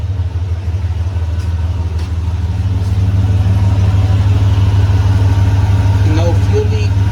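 A swapped Honda B18C1 GSR engine runs in a 1999 Civic EK coupe, idling with a steady low hum that rises slightly in level, with faint mechanical ticks and a short whistle-like squeal near the end.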